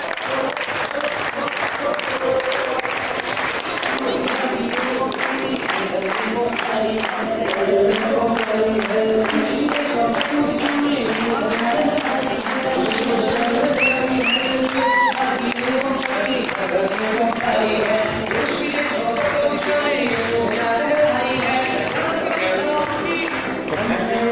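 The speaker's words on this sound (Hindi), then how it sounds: "अरे ताली बजाने की जाती है।" Sustained applause from a seminar audience at an Ayurvedic company event, steady and fairly loud throughout with dense clapping and some crowd noise.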